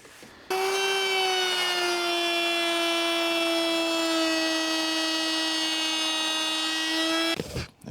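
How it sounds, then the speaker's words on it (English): A router fitted with a rabbeting bit cuts a 3/8-inch groove around the back of a wooden nightstand bookshelf, a loud, steady high whine held for about seven seconds before spinning down. "now I'm just gonna rabbet a 3/8 groove out all around the back here with my rabbeting bit in the router to accept the plywood back."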